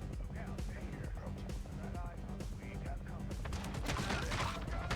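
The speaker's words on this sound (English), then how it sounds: "Okay, that's a lot of gunfire." Rapid video game gunfire crackles in dense bursts over a loud, cluttered background of other game sounds, growing busier toward the end.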